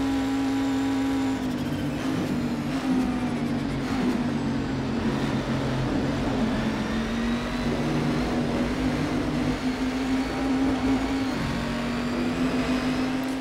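A 2011 V8 Supercar in the racing game Assetto Corsa drives out of a chicane, its engine droning steadily at high revs with slight pitch shifts, loud and continuous with no talk.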